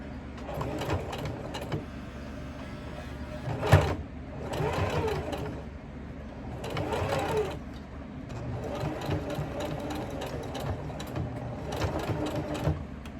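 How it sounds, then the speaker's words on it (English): A heavy-duty sewing machine stitches through several layers of gathered skirt fabric, running in close, loud bursts of rapid needle clatter with brief pauses between runs and a steady motor hum underneath. "I have a heavy duty machine, so this amount of fabric going through my machine really isn't a problem"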